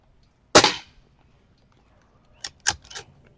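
Commander NV500 air rifle shots hitting a target: one sharp crack, a pause of almost two seconds, then a quick cluster of three cracks close together, loud and near in an otherwise quiet setting.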